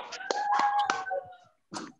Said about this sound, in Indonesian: Tepuk tangannya dari Bandung doang ini